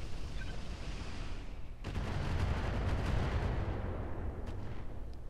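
Mech weapons fire in the Roguetech video game, starting as a sudden heavy barrage at about two seconds that turns into a dense, continuous rumble of booming artillery-like shots.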